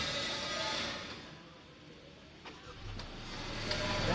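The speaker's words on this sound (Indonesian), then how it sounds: "Jadi ini memudahkan kita cara menghidupkan Honda Civic Hatchback" A Honda Civic Hatchback turbo engine starts up by remote, its idle settling in as a steady low hum near the end after quieter outdoor background.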